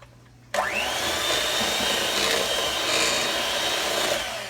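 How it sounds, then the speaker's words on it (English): An electric hand mixer whirs steadily, switching on abruptly after a brief quiet moment and running loud and continuous while beating butterscotch pecan pie filling of butterscotch, corn syrup and butter. "I'm just making it quick on myself using the mixer here"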